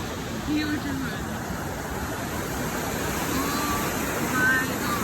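A fast mountain river in Switzerland rushes in a steady, loud broadband roar, close by and unbroken, with faint voices mixed into the water noise.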